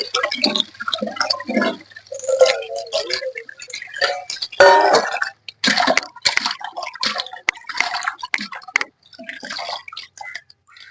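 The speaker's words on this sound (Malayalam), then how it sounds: "ചെറിയൊരു വെള്ളം കൂടെ എടുക്കാം നമുക്ക്" Water splashes and trickles as fish pieces are rinsed by hand in a bowl, with irregular close sloshing, dripping and clattering bursts throughout.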